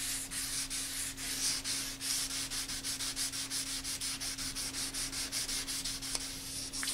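Wet 600 grit sandpaper leveling a guitar body with a soapy lubricant, in quick rhythmic back-and-forth rasping strokes, close and steady with no talking.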